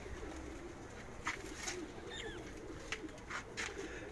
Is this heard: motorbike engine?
no